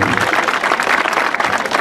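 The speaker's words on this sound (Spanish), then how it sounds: "Fuerte aplauso, señores." A live audience claps at a street comedy show, dense and steady applause that stays loud and continuous through the brief stretch.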